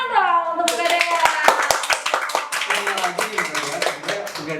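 Audience clapping at an Indonesian youth event hosted with Pegadaian, a brisk burst of many hands that starts after a brief voice, with some scattered cheering mixed in.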